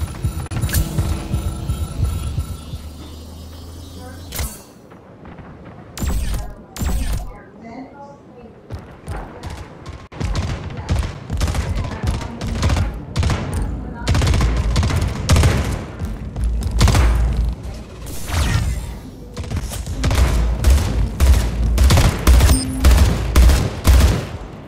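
Dense, continuous automatic gunfire and explosive game sound effects from the shooter video game Splitgate, with rapid bursts filling most of the stretch and a brief pause near the start.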